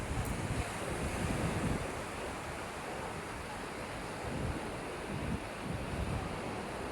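Rough surf on the open Bay of Bengal, heard from a boat at sea: a constant, broad roar of churning water and wind buffeting the microphone, swelling slightly at moments.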